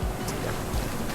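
Surf rolling onto a shallow beach at a campsite in Palawan, a steady close rush of breaking waves with low rumbling swells and wind noise, no voices.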